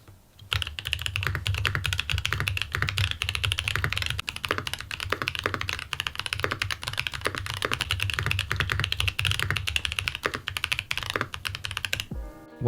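Close, rapid typing on a mechanical keyboard fitted with stack-mount foam, a continuous patter of crisp keystrokes that runs almost nonstop and stops abruptly near the end.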